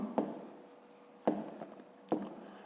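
A pen writes on paper during a fifth-grade geometry exercise, giving three short scratchy bursts of strokes spaced about a second apart, close and fairly quiet, with no talking.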